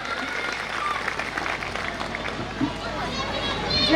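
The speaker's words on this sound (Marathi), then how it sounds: "जोरदार टाळ्या वाजवून विद्यार्थ्यांचं स्वागत करा." Applause from the audience welcomes students at a primary school's annual gathering in Thakarwadi, a steady crowd clapping that runs throughout and swells slightly toward the end, with voices mixed in.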